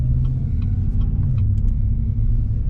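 A pickup truck engine with its resonator deleted idles with a deep, rough, aggressive rumble, steady and close, with a few faint clicks on top.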